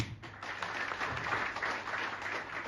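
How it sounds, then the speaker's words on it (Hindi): At a Samajwadi Party workers' meeting in Bhiwandi, an audience gives a short burst of steady clapping. It sounds faint and somewhat distant. "तालियां एक बनती है"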